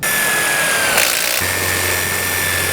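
An impact drill drives screws into a metal gate plate while a panic bar is installed on a chain link gate. A loud, steady whirring grind runs throughout, and a low motor hum joins partway through.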